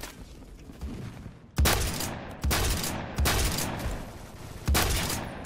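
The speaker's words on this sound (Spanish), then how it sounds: "¿Quién me dispara?" Bursts of rapid gunfire in the shooter game Phantom Forces, four loud close volleys in a row after a quieter stretch of distant shots, with no talk.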